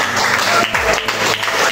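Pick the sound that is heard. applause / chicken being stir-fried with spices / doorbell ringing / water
applause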